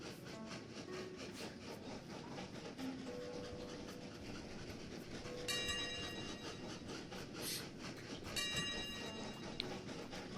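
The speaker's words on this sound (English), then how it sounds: "We can get trains going in both directions without any fear of them colliding." Trains roll along the tracks in the Train Valley railway-management game, a soft steady clatter with bright chiming signals cutting in twice near the end, no voices over it.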